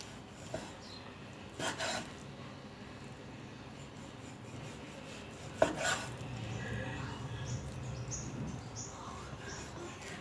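A knife works through pork on a cutting board, cutting it into bite-sized pieces for a home-style Thai stir-fry with garlic chive flowers, giving soft scattered cuts and a few sharper knocks against a quiet kitchen background.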